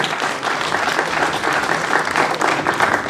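A crowd applauds at a felicitation ceremony for NEET achievers at a career institute in Srinagar, giving a dense, steady wash of clapping that stays loud and even throughout with no voices on top.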